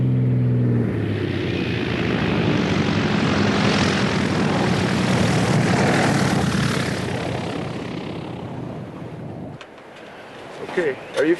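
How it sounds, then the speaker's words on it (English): A bush pilot's propeller airplane flies over remote African country to land, its engine drone loud and steady before easing away, after which brief voices and handling sounds follow. "Before he can land in a remote area, Claytor has to clear the runway."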